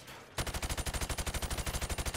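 Automatic gunfire through plywood targets in Call of Duty: Modern Warfare Remastered, a fast, evenly spaced burst of about twenty loud, close shots that starts abruptly after a brief quiet moment and runs to the end.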